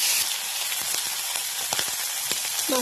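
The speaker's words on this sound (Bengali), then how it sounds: "ভালো করে ভাজা করে নিই চিংড়ি মাছটাকে।" Prawns frying in hot oil with a little salt and turmeric in a wok, giving a steady, close hiss dotted with scattered crackles and pops.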